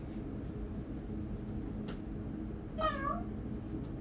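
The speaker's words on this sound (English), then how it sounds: "Okay, we've got a meow." A single clear cat meow rises and falls briefly over a quiet hum, heard once near the end.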